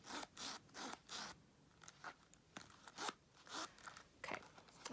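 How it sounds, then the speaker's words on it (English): A Louis Vuitton Monogram key pouch being zipped shut: faint, close, scratchy ratcheting strokes in uneven bursts, quiet overall with no talk. "and this is how it would zip."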